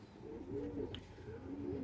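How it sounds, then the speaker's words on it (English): Tippler pigeons at a pigeon show give low, rolling coos in repeated phrases, with a brief sharp chirp in the middle, quiet and close against a murmuring background. "I got two birds fighting here. I can hear them."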